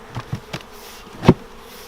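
Honeybees buzzing around a hive in brief bursts close by, a few short passes with one louder buzz near the end, no voices.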